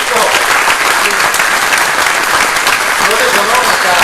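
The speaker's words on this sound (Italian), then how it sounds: "Io farei un applauso a Franco Magrini." An audience gives a dense, sustained round of applause at a community gathering in Rocca Pietore, loud and steady throughout with a faint crowd murmur underneath.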